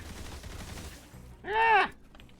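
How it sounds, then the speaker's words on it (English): Gunfire from Metal Gear Solid Delta: Snake Eater crackles in a quiet burst, followed by a short, louder harmonic shout or whine. "it's the gunshot noises. They sound a little puny."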